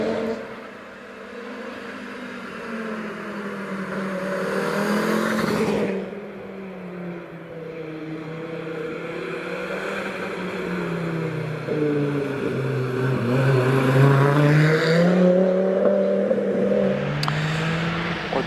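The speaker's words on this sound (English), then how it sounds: "And now we're going to listen to this Audi S2." An Audi S2 five-cylinder turbo rally car engine roars continuously at a hillclimb, revving up and down with a throaty, buzzing tone, loud and close, with no talking.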